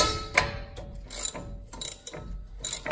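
A ratchet wrench clicks in short bursts as it backs out a 13 mm bolt on the front brake caliper of a RAM 1500, close and fairly quiet, with several separate rounds of ratcheting and small metallic knocks between them.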